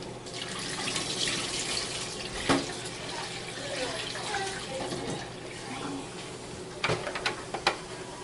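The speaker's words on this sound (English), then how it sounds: "we're just gonna go ahead and rinse them with distilled water" Distilled water runs over dental instruments just taken from an ultrasonic scaler, a steady moderate splashing with a few sharp clinks of metal near the end.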